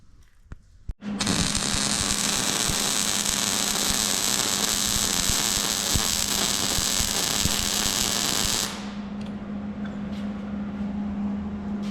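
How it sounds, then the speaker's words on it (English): Arc welding of old cutting edges onto a salt truck blade: a loud, steady broadband crackle with a low electrical hum runs unbroken for about eight seconds, then cuts off, leaving a quieter hum. "Welding some old cutting edges on down there."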